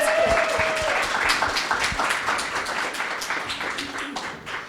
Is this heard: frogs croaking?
no